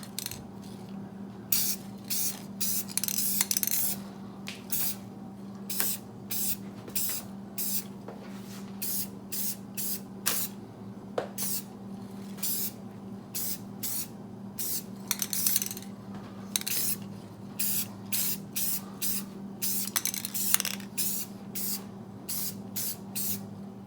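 Aerosol spray paint applied as a second coat on a Toyota GR Corolla intercooler: many short hissing bursts in irregular succession over a low steady hum, close by, with no talking.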